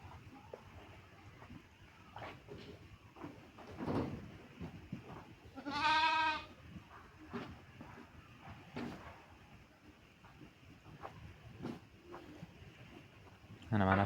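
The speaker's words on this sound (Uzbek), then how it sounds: "Mana shu qo'yimiz tug'di bittasi." Sheep and newborn lambs bleating on a farm: one loud, near, wavering bleat stands out mid-clip and another comes at the end, with rustling and shuffling between and a person talking.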